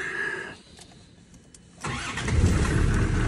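A broken-down JCB or Land Rover Defender engine starting: a starter whirs briefly, then the engine catches and settles into a loud, steady, lumpy idle, close by.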